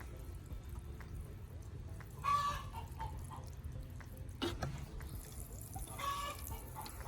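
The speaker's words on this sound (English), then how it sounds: "you guys think chickens are nice and quiet? Nope." Chickens in a garden cluck and squawk in a couple of brief bursts over a low steady background hum, moderately quiet and not too close.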